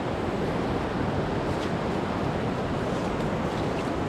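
A swollen provincial river flows in a dense, constant broadband rush of water, loud and close, with no pauses or voices.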